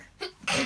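A single short sneeze, a small breathy intake followed by a sharp burst, quiet and close.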